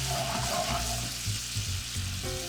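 Cream and Dijon mustard pan sauce for steak au poivre bubbling and sizzling as it is stirred, a dense continuous hiss with low rumbling undertones, close and fairly loud.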